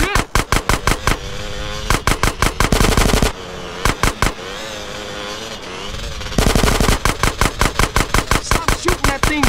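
Machine gun fire in GTA San Andreas, loud rapid bursts of shots in rhythmic volleys with short pauses between them, heard up close.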